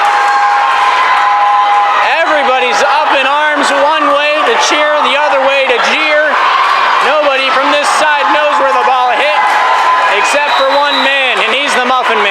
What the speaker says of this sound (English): Everybody's up in arms one way to cheer, the other way to jeer.